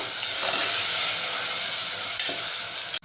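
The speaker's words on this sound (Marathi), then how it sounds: "आता छान आपल्याला परतून घ्यायचं आहे" Tomatoes sautéing in oil for a spicy chicken dish give a steady, close sizzle with stirring scrapes throughout, and a couple of sharper clinks near the end.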